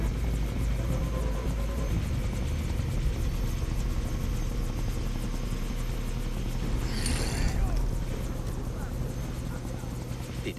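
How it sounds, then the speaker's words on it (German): A helicopter's rotor pulses and engine drone continuously under background game sounds in Far Cry 3, with a sharp burst of noise about two-thirds through. "Die dürfen Olli nicht in den Heli bringen"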